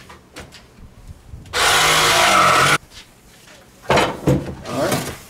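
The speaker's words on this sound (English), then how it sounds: "Now we're going to use the jigsaw to cut" A jigsaw cuts a wooden form for a DIY wedding arbor in one loud burst of about a second, then stops. Quieter scraping and handling of the wood follows, with a short second buzz near the end.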